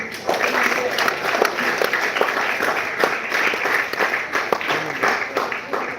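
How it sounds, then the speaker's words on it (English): A seminar room full of people claps together in dense, sustained applause, with some voices mixed in under the clapping. "give a clap for ourselves"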